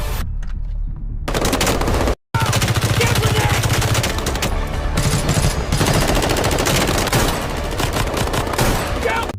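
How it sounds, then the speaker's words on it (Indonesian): Rapid machine-gun bursts and dense volleys of gunfire fill a movie shootout, loud and nearly continuous with one brief break, mixed with a dramatic soundtrack. "baku tembak pun tak terhindarkan"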